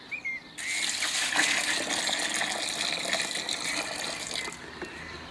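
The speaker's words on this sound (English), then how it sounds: "add some water." Water gushes into a bucket of clay for papermaking paint, a steady rushing pour that starts abruptly, runs about four seconds, then stops.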